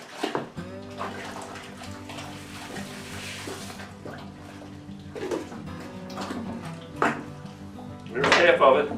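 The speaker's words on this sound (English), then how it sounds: "I put about 3 gallons of boiling water in my mash tun." Three gallons of boiling water poured into a mash tun while making a corn bourbon mash, a steady close splashing pour with clattering and knocks of equipment, and a louder burst of splashing near the end.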